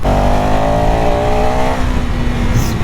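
A KTM Enduro 390 motorcycle ridden at speed, its engine droning in a loud, steady tone with wind rush, the pitch holding then dropping slightly as it eases off, close and continuous.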